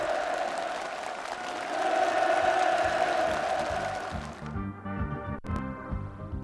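Participants at a housing move-in gathering on a farm in Rakwon County applaud warmly, a broad crowd clapping for several seconds before it stops and music takes over.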